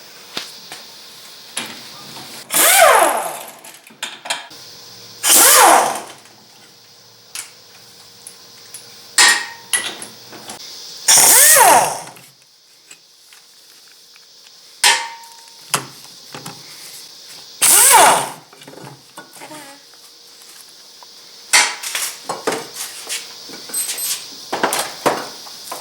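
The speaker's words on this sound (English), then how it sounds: "remove the 4 bolts that hold the bracket to the pump using a 15mm socket" A 15mm socket and ratchet remove four bolts holding the bracket to the power steering pump on a Dodge truck. Close metallic clicks and clanks come in separate bursts with quiet gaps between them, and no voices.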